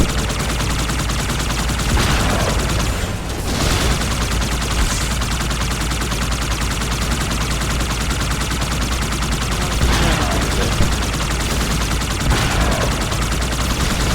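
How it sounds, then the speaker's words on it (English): Fuel rod gun fire in the Halo 2 video game, arcing explosive bolts launched in several bursts amid constant loud battle noise. "Really gotta lead the shots with the fuel rod bombs."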